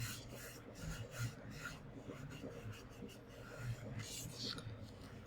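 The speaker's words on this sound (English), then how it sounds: "I'm going to get it set by rubbing it." Glued paper sticky-notepad holder rubbed by hand to set the fold, a soft continuous rasping and brushing close up, with quiet breathy murmurs underneath.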